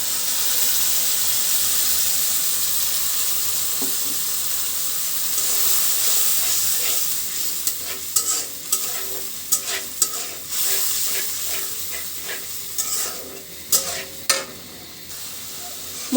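Spice paste seasoned with salt and turmeric sizzles steadily in a pan of fried onions, a loud continuous hiss broken by sharp scraping clicks of a spoon stirring toward the end.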